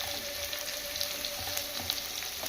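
Finely chopped onion fries in a pan for a curry, giving a dense, close crackling sizzle with scattered pops throughout and no voices.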